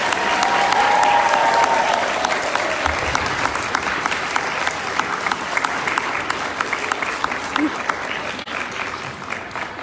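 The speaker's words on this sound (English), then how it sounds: "Give her a round of applause." An elementary school audience applauds during a state Teacher of the Year announcement, loud dense clapping that gradually thins and tapers off, with a brief voice at the start.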